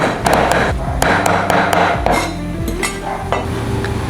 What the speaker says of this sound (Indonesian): Pastikan kalian mencincangnya menggunakan gelondongan kayu ya. Atau talenan kayu seperti aku.